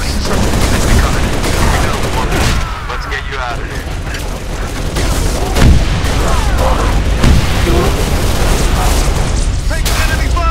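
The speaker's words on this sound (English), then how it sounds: "Take the enemy fire!" Enemy gunfire in Halo: Reach during the Winter Contingency mission, with Covenant forces attacking: dense, loud bursts of weapon fire and booms roll on continuously under game radio chatter.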